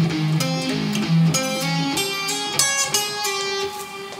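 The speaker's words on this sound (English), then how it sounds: "And that entire part together sounds something like this." Sustained, distorted electric guitar runs through a complete solo section, melodic lines with slides and bends stepping across the strings, loud and continuous with no voices.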